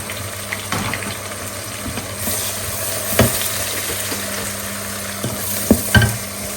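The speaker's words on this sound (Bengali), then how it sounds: "তেলটা একটু গরম হলেই পেঁয়াজ দিয়ে দিব।" Onions frying in hot oil for biryani give a steady low sizzle with occasional stirring clinks and scrapes, close and fairly loud, with no talking.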